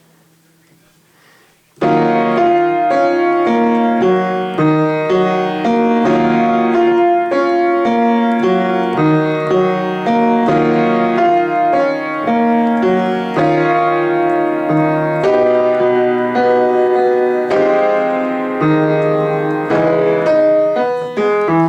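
Piano plays a bridge as a steady, full chordal passage at a moderate tempo, close and bright, with no voices.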